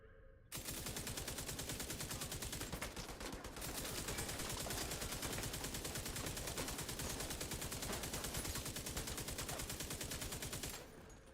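Sustained rapid automatic gunfire in The Division 2, a dense unbroken stream of loud shots lasting about ten seconds with a brief stutter near the start, no talking over it.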